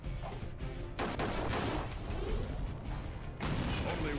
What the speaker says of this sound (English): I gotta shoot that TNT